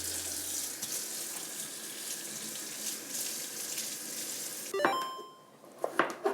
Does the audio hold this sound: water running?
yes